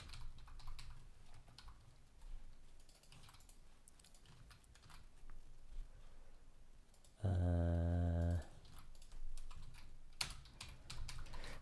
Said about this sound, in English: I keep typing the wrong things.